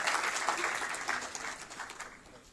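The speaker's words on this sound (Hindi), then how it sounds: "जोरदार तालियों की गड़गड़ाहट में" A dense wash of applause from a large audience fills a book release event for a Sharad Pawar biography, loud and steady at first, then gradually thinning out with no voices over it.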